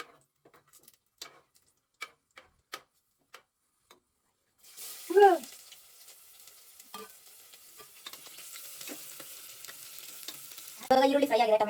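Tempering ingredients hit hot oil with a sudden loud sizzle after a few sparse ticking taps, then settle into a continuous frying hiss as they are stirred. A voice sounds briefly over it.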